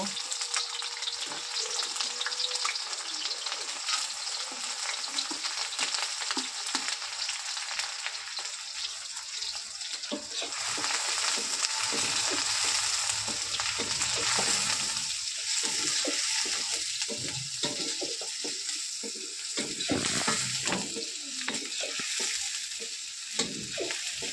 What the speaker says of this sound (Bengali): পেঁয়াজটা ভাজা মতো হয়ে এসছে